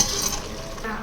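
Keema masala with cloves frying and being stirred in a pan, a steady soft sizzle with faint scraping, close and continuous through the short stretch.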